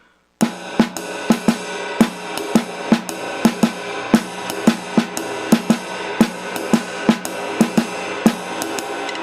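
A steady jazz drum kit pattern with regular sharp ride cymbal strikes ringing over a sustained shimmer, moderately loud and close, no voices.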